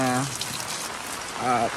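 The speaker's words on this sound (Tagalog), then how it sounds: "ang lakas ng ulan ngayon" Heavy rain pelts a camping tent during a 3 AM storm, a constant dense hiss of drops close by, with a brief voice speaking at the start and again near the end.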